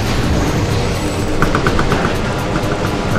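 Rapid regular arm cannon shots fired in the video game Metroid Prime 2 Echoes, a quick run of evenly spaced sharp blasts over a dense, loud game soundscape.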